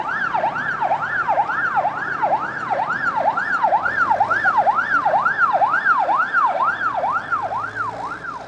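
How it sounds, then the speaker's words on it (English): A high-pitched US ambulance siren wails in a fast, regular up-and-down sweep, repeating steadily and loudly throughout, with no voices over it. "In the United States, the sound of an ambulance is a high-pitched"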